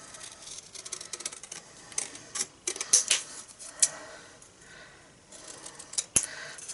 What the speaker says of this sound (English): cut that out freehand